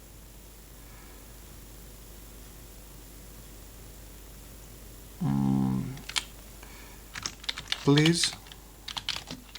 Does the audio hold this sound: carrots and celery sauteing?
no